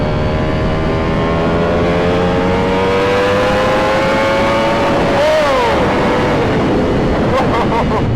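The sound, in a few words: Ducati Panigale V4 SP2 motorcycle engine while riding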